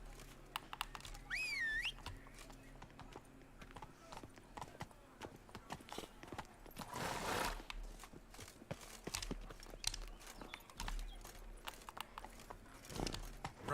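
Hoofbeats of a horse ridden at a gallop in The Witcher 3 video game, a steady clip-clop rhythm running throughout, with a brief whinny early on, game ambience and a burst of wind-like noise midway.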